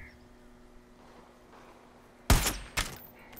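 Two sharp gunshots crack out in the Far Cry 5 video game over a quiet outdoor backdrop, the first louder with a short echoing tail, the second close behind.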